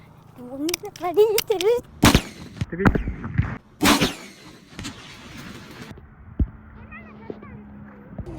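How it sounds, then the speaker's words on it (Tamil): A homemade paper firecracker: two sharp, loud bangs burst out close by, one after the other, with crackling debris and voices chattering around them. "இப்போ நம்ம அடுத்த வெடி வெடிப்போம்"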